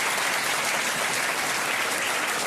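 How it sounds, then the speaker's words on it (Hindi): An audience at a ceremony for top-scoring coaching students claps continuously to welcome a student, a dense, even wash of applause throughout with no pauses. "ताली बजा के स्वागत करिए बच्ची का।"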